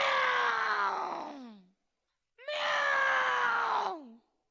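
A cartoon voice imitates a cat with two long drawn-out wailing meows, each rising then sliding down in pitch, separated by a short silence.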